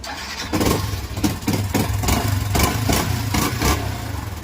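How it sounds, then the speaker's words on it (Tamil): A Yamaha FZ motorcycle engine runs through a broken, bent silencer exhaust, giving a close, rough, uneven idle with a string of sharp blips and pops alone, with no talk. "இந்த சைலன்சர் சவுண்டு கேட்டிருப்பீங்க."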